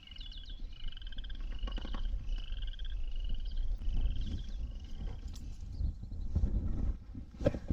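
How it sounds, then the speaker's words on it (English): A big frog croaks on a creek bank in a run of repeated rasping calls, fairly close and clear, with a few soft knocks and water or handling noises near the end. "A big old frog on the bank here."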